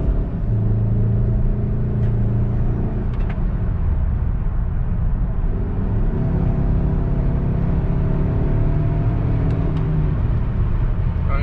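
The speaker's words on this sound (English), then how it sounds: "Running good and smooth. No complaints. Just the way the Saab should feel." A 2008 Saab 9-5 engine runs steadily, giving a continuous low rumble and hum close by with slight rises in pitch as it revs, alone with no talk.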